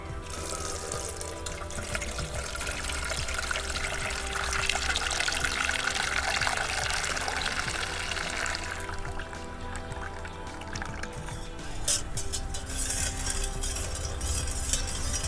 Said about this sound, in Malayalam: ഇതിനകത്തോട്ട് ഒരു ലിറ്റർ വെള്ളം ഒഴിക്കണം